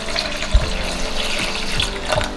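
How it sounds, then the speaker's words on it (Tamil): Water poured over lentils in a pot while making ghee dal, a steady running, splashing flow close by that lasts the whole moment, with one soft bump partway through and no talking. "இந்த பருப்பு இருக்குல்ல, இது முழுகிற அளவுக்கு நம்ம தண்ணி ஊற்றலாம்"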